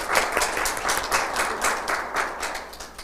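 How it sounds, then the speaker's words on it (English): Steady, full audience applause at a Hispanic Latin Heritage Month art talk kickoff, many hands clapping continuously at moderate loudness with a pulsing texture. "let's continue to give an incredible round of applause to Ms. Kathryn, and of course to Christine"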